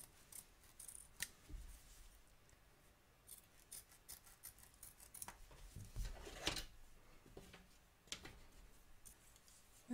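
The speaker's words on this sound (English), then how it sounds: "carefully cut around the edge, taking care not to cut your stitches or anything else underneath your hoop" Scissors snip fabric along the edge of an embroidery hoop in quiet, close, irregular cuts, with soft rubbing and handling noises between the snips.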